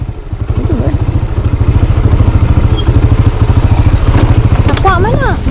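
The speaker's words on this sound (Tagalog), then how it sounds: "Mag-agi din motor na." Motorcycle on a trail in the Cabangahan Mabini mountains of Bohol, its engine putting steadily and close throughout, with voices talking over it.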